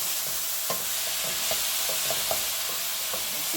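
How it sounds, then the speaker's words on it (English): Garlic asparagus with pepper sautéing in a pan, a steady soft sizzle with scattered light clicks of stirring, close and even throughout with no voices. "And just keep sauteing till it is cooked."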